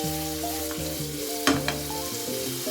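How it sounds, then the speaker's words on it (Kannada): Paneer fries in oil and ghee in a pan with a steady hiss of sizzling and a couple of sharper crackles, while a tonal melody plays underneath throughout. "ಪನ್ನೀರ್ನ ರೋಸ್ಟ್ ಆಗೋವರೆಗೂ ಫ್ರೈ ಮಾಡ್ಕೋಬೇಕು."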